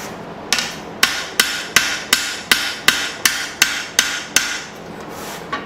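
Steady hammer blows on a Bowie knife blade being forged, about a dozen sharp ringing strikes at an even rhythm, each with a short metallic decay. The strikes sound close and loud, with no speech.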